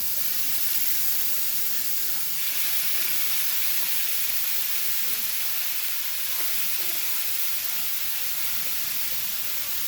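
Meat for homemade Philly cheesesteaks sizzling hard in a little hot oil in a pan, a steady dense frying hiss held close and loud for the whole stretch with no talk over it.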